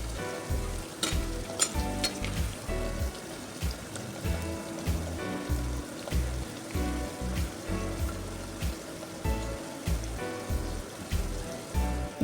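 Vegetables for brinjal kadaiyal sizzle in a hot pan while a spoon stirs them, making a quick, steady run of scrapes and clinks over the continuous frying hiss.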